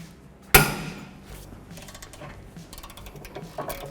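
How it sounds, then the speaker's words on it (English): A 1/2 inch breaker bar and ratchet snapping suspension bolts free: one sharp, loud metallic crack near the start, then soft clicking and rattling of the tool. "I'm going to use a big 1/2 inch breaker bar, ratchet, snap those free."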